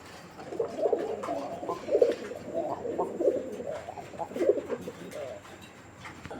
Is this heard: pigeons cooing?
yes